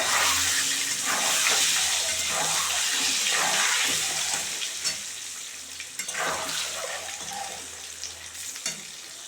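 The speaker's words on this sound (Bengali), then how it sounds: "ডিম ভাজা হয়ে গেছে এখন আমি তুলে নিচ্ছি সব" Ten eggs fry together in a pan dusted with Kashmiri chili powder, producing a loud, hissing sizzle that eases toward the end under occasional stirring scrapes, with no voices.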